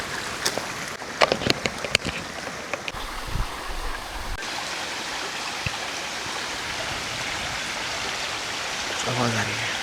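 Flowing water of a stream runs steadily through the whole stretch, a broad rushing wash with a few scattered clicks and knocks near the start and a brief low rumble, no speech over it.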